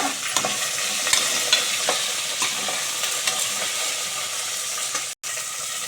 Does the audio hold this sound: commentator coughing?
no